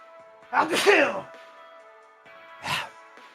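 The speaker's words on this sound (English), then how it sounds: "I'm going to sneeze." A voice makes a brief sound, then a short, sharp sneeze bursts out close by, with a faint hum underneath.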